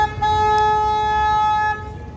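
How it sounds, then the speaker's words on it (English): One long, loud tour boat horn blast on the San Antonio River Walk sounds close by, holding steady for nearly two seconds before cutting off. "One more time, I'm gonna honk my horn."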